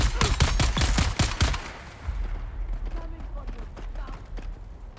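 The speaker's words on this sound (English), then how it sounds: "I hear somebody shooting" A rapid string of close, loud gunshots rings out in the game Dune, then cuts off, leaving quieter ambience with faint distant pops and game sounds.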